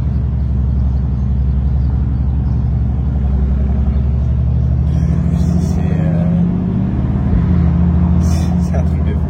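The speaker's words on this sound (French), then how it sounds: "Mode sport, activé sur la Bentley" Bentley with an aftermarket exhaust in sport mode, a loud, steady deep engine drone with a low exhaust rumble, heard from inside the car, with people talking over it.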